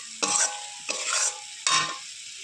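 Eggs and potatoes are stir-fried in an oily pan. Three distinct bursts of scraping and sizzling come up close, separated by short pauses.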